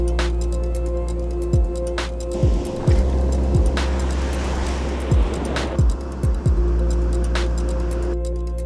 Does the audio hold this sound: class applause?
no